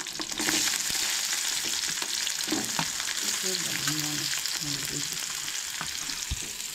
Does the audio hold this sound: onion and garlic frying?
yes